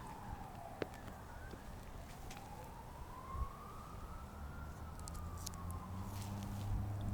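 A siren wails in the distance, its pitch sliding slowly up and down, over steady low traffic rumble with a few faint clicks.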